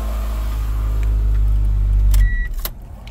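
A 1999 Ford Escort engine runs at a steady, loud idle after starting, then cuts off abruptly near the end, followed by a short high beep and a couple of clicks.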